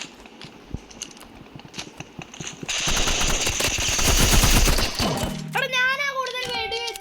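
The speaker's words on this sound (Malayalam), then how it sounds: "ഞാനാ കൂടുതൽ വെടി വെച്ചത്. എന്റെ പിസ്റ്റൾ പവർഫുൾ ആണ്." Gunfire in the video game Rivals, starting as a sparse sequence of shots, then building into dense rapid bursts with loud sustained fire, ending in a few electronic game effects.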